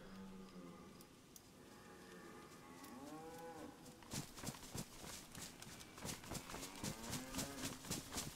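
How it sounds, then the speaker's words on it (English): Cow mooing in the Bitterroot video game, heard as several drawn-out lowing calls, faint at first and then louder, with a rapid rhythmic thudding like hooves running underneath in the second half. "I hear a cow."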